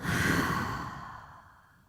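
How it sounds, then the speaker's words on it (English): A deep exhale through the open mouth during a yoga power flow, a single long breathy release that starts loud and fades steadily over about two seconds, close to the mic with no talking. "Open mouth, exhale."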